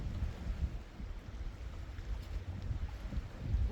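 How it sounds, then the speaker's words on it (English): Steady wind buffeting the microphone at a lakeside fishing campsite, a continuous low rumble with gusty swells throughout and no voices. "The wind's blowing right at us."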